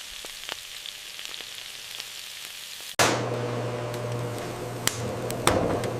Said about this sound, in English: Sizzling adds flavor and aroma.